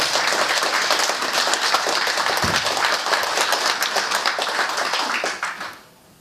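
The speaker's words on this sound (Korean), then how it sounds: "여러분의 큰 박수로 오늘 이야기 함께하겠습니다" A lecture audience at a regional newspaper forum claps loudly and continuously for a singer's talk, a thick wash of many hands that holds steady for several seconds before trailing off into quiet.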